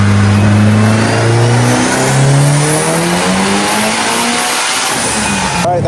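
Tuned Mitsubishi Evo 9 with an FP Zero turbo revving hard on a dyno pull, engine pitch climbing steadily through the run, loud and close, easing off at the end.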